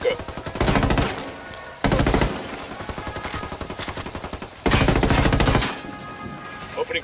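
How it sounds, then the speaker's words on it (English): Automatic gunfire in the video game Ghost Recon Wildlands, with loud sustained bursts of rapid shots separated by short pauses and a quieter stretch of scattered fire in between. "Opening fire."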